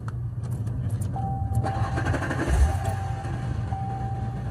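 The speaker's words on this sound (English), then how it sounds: "I am going to start the car." A car engine turning over with a key and settling into a steady low idle rumble, with a thin tonal whine riding above it, close and continuous throughout.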